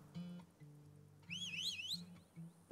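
Whistling in the strategy game Turmoil, a bright warbling tune that rises and falls in pitch for about a second over a low droning hum and soft game tones.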